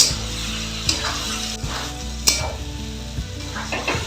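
Ginger paste sizzles loudly in a hot pan while being stirred for navratan korma, with a steady frying hiss and a few scattered spatula clinks and scrapes.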